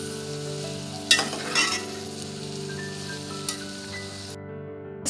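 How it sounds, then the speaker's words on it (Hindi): Ingredients for chicken tikka pulao frying and being stirred in a pan, with soft sizzling, a few scraping stirs and light utensil clinks over a steady background hum. "हम इसको भी फ्राई कर लेंगे।"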